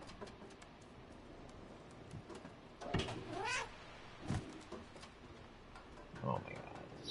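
A cat meows a few times in the video game Stray, with short, rising and falling cries spread over several seconds. The calls sit on top of a quiet background of game ambience.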